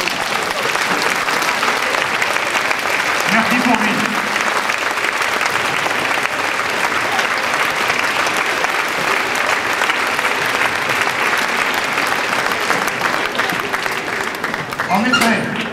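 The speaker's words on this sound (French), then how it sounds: "Je vous demanderai de vous lever pour applaudir notre fondateur" A standing audience applauds the founder of a judo club at its 45th anniversary celebration, steady dense clapping filling the whole stretch, with a voice briefly speaking over it near the end.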